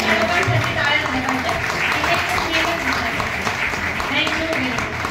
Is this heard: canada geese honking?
no